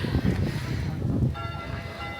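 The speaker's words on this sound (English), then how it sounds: "The bell's ringing." Distant church bells ringing in Koper, Slovenia, under a steady outdoor rumble, with sustained metallic tones that grow clearer toward the end.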